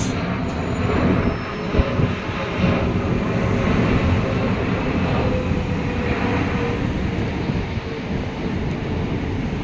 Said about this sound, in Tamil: இன்னொரு பெரிய ஃப்ளைட் ஒன்று பாருங்க